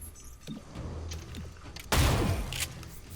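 Gunfire from the video game XCOM Chimera Squad: a sudden loud burst crashes in partway through after low mechanical clatter and thuds, then decays with a brief echoing tail.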